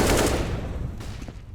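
Video game gunfire from AK rifles and Desert Eagle pistols during a competitive match, a short loud burst that fades quickly into a few trailing shots.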